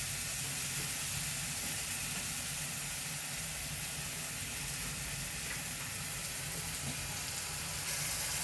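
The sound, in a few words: bananas frying for banana halwa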